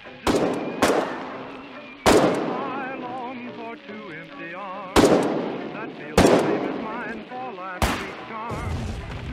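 Sharp, loud single gunshots in the war game Foxhole ring out at irregular intervals, roughly six cracks spaced over several seconds, each with a ringing tail, and a voice talks quietly between the shots.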